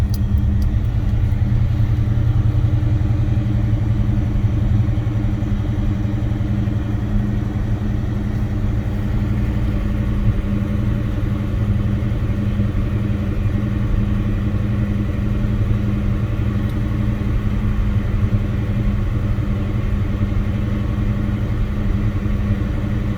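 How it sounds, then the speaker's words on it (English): A 1971 Pontiac GTO Judge V8 idles after a cold start on a Wisconsin day, a loud, steady, deep rumbling burble that holds unbroken at close range. "Let's go ahead and give the 71 GTO Judge a cold start."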